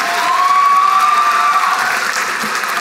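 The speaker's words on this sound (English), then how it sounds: "Let's have a big round of applause for the practical nursing graduates." Applause from the audience at the Stenberg College Spring 2022 graduation ceremony for practical nursing graduates, a steady wash of clapping throughout, with a faint voice or tone briefly audible over it.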